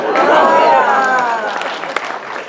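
Comedy club audience applauding and cheering, a loud dense wash of clapping and crowd noise with voices mixed in, swelling at first then thinning out over a couple of seconds.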